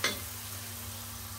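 Onions and spices sizzle and fry in a pan for a Bangladeshi home recipe, with a sharp stirring scrape at the start followed by a steady, quiet hiss and crackle.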